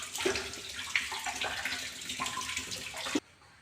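Running water splashing as soil is washed off tubers, close and steady for about three seconds with small knocks and sloshes, then cutting off abruptly.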